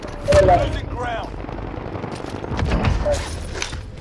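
Rapid automatic gunfire from two shooters at once in Call of Duty: Modern Warfare, dense bursts crackling under a person talking and exclaiming, with louder volleys near the start and again toward the end.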